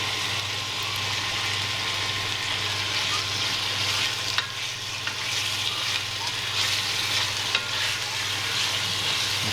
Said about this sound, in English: And start frying it